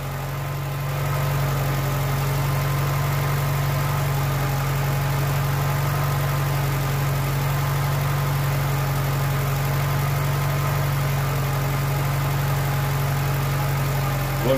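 A VW Polo 86C engine idles steadily and close by, giving a constant low hum with an even mechanical drone and no change in revs throughout.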